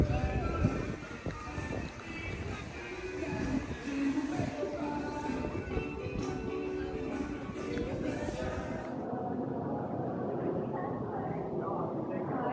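A theme park train at Universal Studios rumbles and clatters along with a steady mechanical drone, with people talking over it and the noise dropping slightly near the end.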